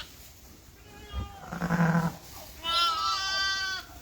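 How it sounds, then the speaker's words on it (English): A ewe and her lamb bleat on a farm during lambing, one deep call followed by a higher, longer wavering bleat close by, with a voice speaking softly between. "the sheep says ba, and the lamb goes meh"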